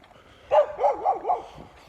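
Husky puppies give a quick run of four short, high yips and barks close by in an otherwise quiet moment.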